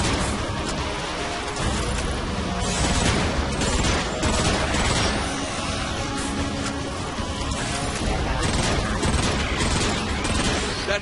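Dense, continuous gunfire and crashing from a Transformers: Fall of Cybertron battle, a steady roar of shots and impacts filling the whole stretch with no pauses, loud and close throughout.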